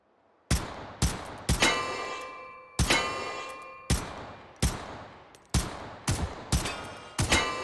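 Mini-14 rifle fired at a dueling tree in the VR game Hot Dogs, Horseshoes & Hand Grenades: about nine sharp virtual gunshots at uneven intervals, each followed by a ringing metallic clang from the steel plates, loud and close with no talking.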